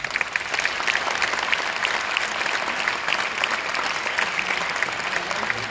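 A crowd at a Tamil debate show in Los Angeles applauds in a dense, sustained roar of clapping, loud and steady throughout, with no talk over it.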